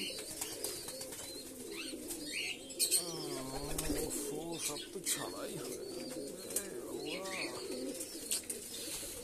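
Pigeons coo in soft, low repeated calls amid scattered chirps and wing flaps, with someone talking over them near the microphone.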